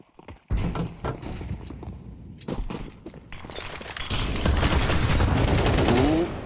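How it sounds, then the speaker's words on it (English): Rapid gunfire erupts during an attack in a Counter-Strike match, with scattered single shots and bursts at first, then dense, continuous firing that builds and stays loud to the end. "Shiro moves in to triple off CT after missing his first shot"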